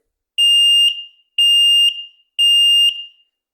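X-Sense smoke alarm on test, three loud, piercing beeps evenly spaced with short gaps, close and alone.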